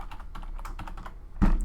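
Quick, light keystrokes patter on a computer keyboard as a new root password is typed, a steady run of soft clicks ending in a heavier thump, close and without voices.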